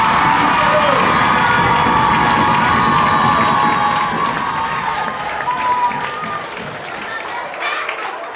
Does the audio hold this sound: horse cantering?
no